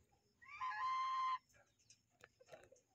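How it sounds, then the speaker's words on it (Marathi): A hen gives one loud, drawn-out squawk close by, followed by quieter scattered clucks and rustling from the poultry around it, with a rooster in the vicinity. "ह्या कोंबड्या वरडल्या म्हणून तो कोंबडा आहे ना पळत आला"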